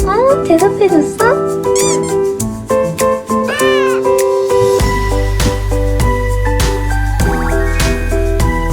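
A sick rescued stray cat being treated at a clinic meows repeatedly up close, a string of rising, plaintive calls, followed by people talking over background noise.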